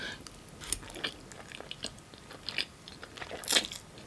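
Someone eats fettuccine alfredo close to the mic with soft, wet chewing and scattered crunchy bites, a couple of them sharper and louder, and no talking.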